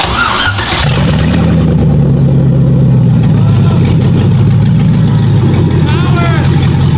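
An LS1 V8 swapped into an E30 drift truck cranks and fires with a burst, then settles into a loud, lumpy idle with light revs, close up, while voices talk over it.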